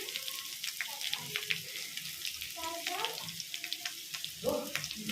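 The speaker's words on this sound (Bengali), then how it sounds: "এবার একটু পেঁয়াজ দিয়ে দেবো অল্প একটু" Sliced onion goes into a hot frying pan with oil and sets off a steady, moderate sizzle, with faint clatter and small clinks over it.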